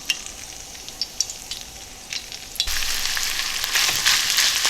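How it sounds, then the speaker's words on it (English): Chicken for Thai holy basil stir-fry (pad kra prao) sizzles steadily in a hot pan with a few stirring clinks, and the frying swells noticeably louder partway through. "a lot of that stuff's cooked off and we're starting to hear the sizzle once again"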